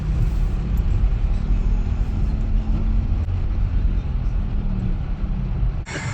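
Street traffic through a flooded city centre in Mandaue, Cebu, a loud continuous rumble of car and vehicle engines close by, with a brief rustle near the end.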